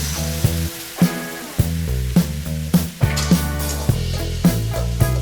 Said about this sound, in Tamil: அரிஞ்ச வெங்காயத்தை சேர்த்துக்கலாம்.